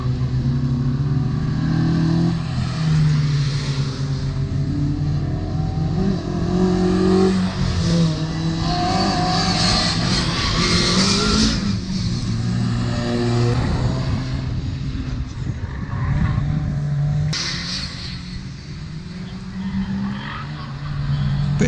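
Rally cars race at a Teesside rally event, including a turbocharged five-cylinder Ford Focus, with engines revving and accelerating loudly, some tire skids and a steady mechanical roar throughout.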